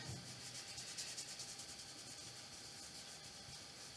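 Damp cloth rubbing stain-like onto a small angel made from wooden biscuits, a faint, continuous soft scrubbing hiss close by with no talk.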